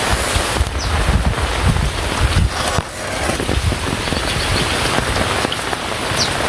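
Stormy rain on a village day drums steadily on surfaces, with gusts of wind buffeting the microphone and low rumbling noise, a loud continuous wash without speech.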